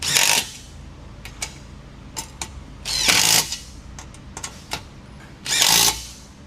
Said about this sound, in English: Then you'll take your 7/16 on a 1/4 inch drive. Go ahead and make sure it's lined up and tighten them down.